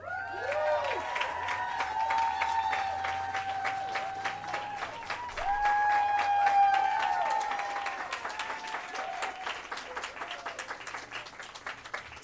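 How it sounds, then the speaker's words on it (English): An audience applauds at a Hollywood Walk of Fame ceremony for Gillian Anderson, with distinct, crisp claps forming a sustained round that swells midway and then gradually thins out, and a few whoops heard over it. "that deserves an enormous round of applause"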